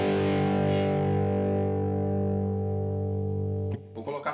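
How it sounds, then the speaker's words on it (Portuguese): A single electric guitar chord with crunchy overdrive rings out and sustains at steady volume, then is cut off, followed by a brief scrape of noise. "Vou colocar aqui um drivezinho, um crunch."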